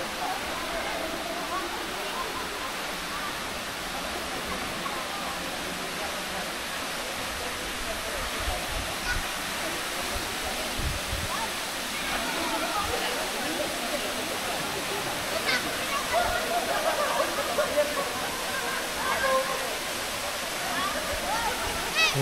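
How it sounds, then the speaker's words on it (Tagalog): Katibawasan Falls, a high waterfall in Camiguin, gives a steady broadband rushing roar that holds evenly throughout, heard from nearby with a person talking over it. "At yung mataas na waterfall."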